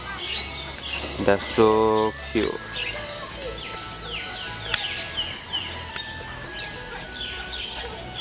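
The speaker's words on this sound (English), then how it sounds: "Look at the bird." In Malaysia, a bird lets out one short, harmonic call early on, followed by faint chirps, while people talk nearby.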